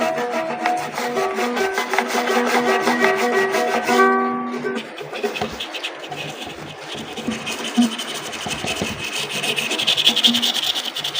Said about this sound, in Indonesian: Gosok terus sampai sebersih-bersihnya.